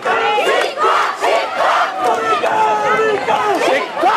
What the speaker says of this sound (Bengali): তারা এখানে বসে স্লোগান দিচ্ছে